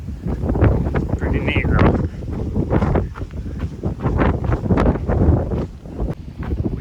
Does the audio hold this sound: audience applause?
no